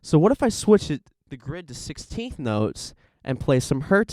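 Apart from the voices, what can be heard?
No everyday noises stand out.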